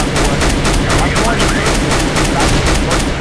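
Rapid gunfire in the CS:GO video game, including sniper rifle shots, as a dense loud barrage of regularly repeating shots that fills the whole stretch with no pause.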